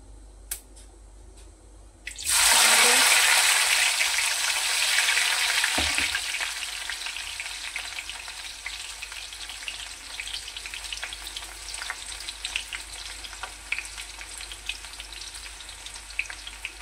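Mustard seeds and cumin hit hot oil with a sudden loud sizzle and crackle that stays strong for a few seconds, then settles into a quieter, steady frying hiss with faint pops.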